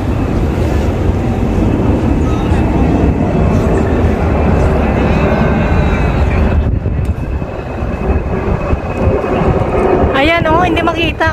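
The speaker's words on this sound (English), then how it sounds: "Ayan na naman, may plane na naman." An airplane passes overhead near Sunny Bay, a loud, steady roar under cloud cover that fills the scene, with a brief higher tone near the end.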